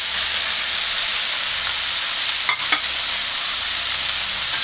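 Potatoes stir-fried with spring onion, garlic and green chili hiss in a loud, dense, continuous sizzle close up, with a brief clatter of stirring near the middle and nobody speaking.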